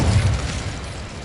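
Incendio fire spell burst in Hogwarts Legacy, a short loud whooshing boom with deep low-end rumble that quickly tapers off, heard alone.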